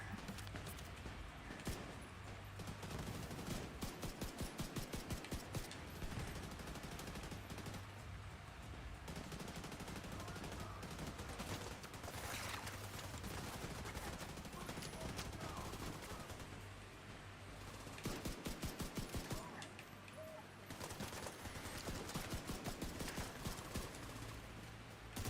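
Sustained bursts of light machine gun fire from a video game rattle on continuously, dense and loud, with brief pauses between volleys over a busy background of game sound.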